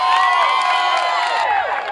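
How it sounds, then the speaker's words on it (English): A crowd at a 2012 fundraiser cheers and whoops loudly with many overlapping shouting voices, sustained and close, tapering slightly at the end. "Let's give him another round of applause."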